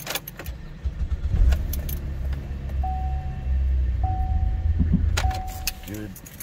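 A car engine runs after being started with an original key during a locksmith call, a low steady idle with keys jangling and faint electronic chimes, while people talk nearby.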